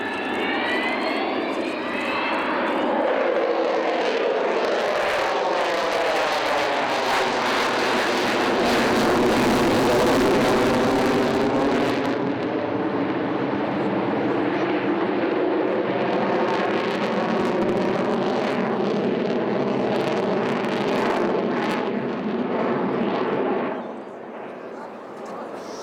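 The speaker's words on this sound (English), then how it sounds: "Jet engines, as you heard there, as much power as they're allowed to use." Avro Vulcan jet engines roar loudly as the bomber passes at an airshow at Shoreham, a sustained powerful howl that swells, peaks and shifts in pitch before easing off at the end.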